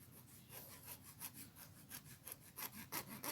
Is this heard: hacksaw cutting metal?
yes